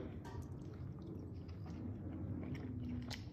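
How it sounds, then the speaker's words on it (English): Faint close chewing of a grilled chuck eye steak, with soft wet bites and mouth sounds over a quiet background. "let's take a taste test, shall we?"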